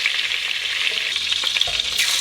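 Shrimp frying in a hot pan for a stew, a steady close sizzle with crackling pops throughout and no talking.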